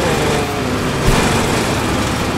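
A tractor engine in the game Death Tractor drones steadily, a loud, dense buzzing hum that stays constant throughout with no break.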